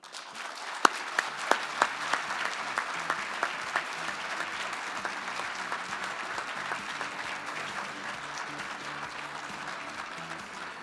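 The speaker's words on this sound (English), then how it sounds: "please join me in giving a round of applause to welcome on the stage" Applause from a large audience at an evening veterans tribute as Admiral Mike Mullen is welcomed to the stage: steady, dense clapping with a few sharper claps standing out early, sustained for about eleven seconds without speech.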